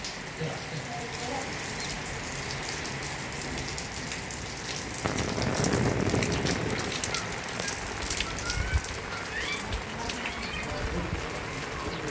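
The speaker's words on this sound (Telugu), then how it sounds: "నిన్నటి నుంచి కంటిన్యూగా వర్షం కురుస్తుంది మా ఊర్లో" Steady rain falls in a soft, continuous hiss, with a slightly heavier patch in the middle and no voices.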